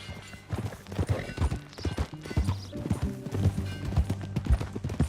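Horse hooves clip-clop steadily in Red Dead Redemption 2, a close, rhythmic walking gait with a snort or whinny, over low game ambience.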